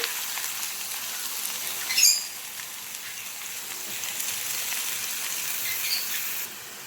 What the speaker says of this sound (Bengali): উচ্ছে আর আলু কেটে ধুয়ে নিয়েছি, এখন ভাজা করব।